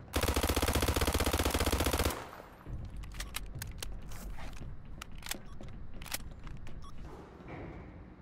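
Automatic gunfire in the video game Garry's Mod, a rapid loud burst of shots lasting about two seconds. Scattered sharp clicks and thuds follow under a steady background noise.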